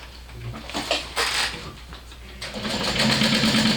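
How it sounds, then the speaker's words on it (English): Sewing machine top stitching panels for a Knotted Threads Rosie bag, running in bursts with a steady mechanical whir that grows louder and more continuous toward the end, close up with no talk. "So let's go ahead and top stitch those panels."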